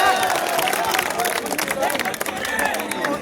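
At a B.Tech freshers' cultural night, the college audience breaks into lively applause and whooping, a crowded mix of clapping, cheers and chatter that stays loud throughout.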